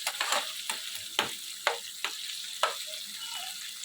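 Onions frying in a pan with curry leaves for a curry, a close steady sizzle punctuated by repeated quick scraping stirs at a brisk, uneven rhythm.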